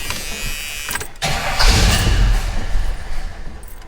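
Engine cranking and struggling to catch after a dose of easy start spray, with rough churning turnover and a brief surge as it almost fires, close and loud.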